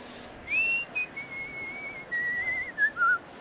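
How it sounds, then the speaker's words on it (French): A nervous man whistles a short, wavering tune alone and close up, the melody sliding and breaking into a few separate phrases. "Souvent, il sifflote, parce qu'il est un peu nerveux."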